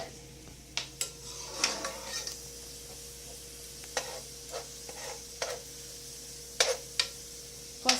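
Onions sizzle in a hot pan for fried rice, with a steady frying hiss broken by sharp clinks and scrapes of a utensil stirring against the pan at irregular intervals, close by and with no talking.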